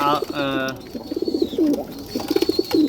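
Racing pigeons coo nearby in soft, rhythmic bursts of throaty pulses, with a brief voice at the start.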